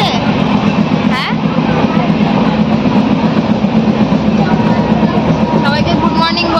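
A passenger train in motion on an overnight journey toward Darjeeling gives a steady, close rumble with faint wheel clatter throughout, and soft voices sit low beneath the noise.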